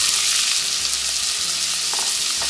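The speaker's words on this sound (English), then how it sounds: "we're going to cook the onions till they are translucent" Onions fry in a pan for Polish hunter's stew, giving a loud, steady close sizzle with a few stirring scrapes near the end.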